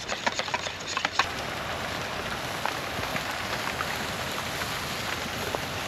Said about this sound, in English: Now it's raining. Pretty hard.